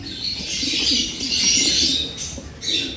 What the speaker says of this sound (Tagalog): Naka-ready na yung aming mga kalapati